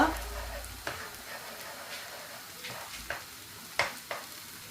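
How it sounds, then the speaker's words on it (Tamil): Egg and vegetables fry in a pan for kothu puttu, a soft sizzle broken by several sharp clinks and scrapes as a utensil stirs and chops the mix, with a voice speaking faintly in the background. "இப்போ இதுலேயே நல்லா மிக்ஸ் பண்ணி கொண்டு வர பாருங்கள் அந்த முட்டை பாருங்க வறுபட்டு வரும்"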